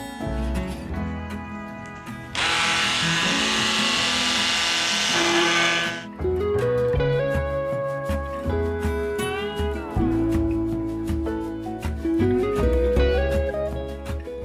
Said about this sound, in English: I take a small drill bit and drill out the center of the head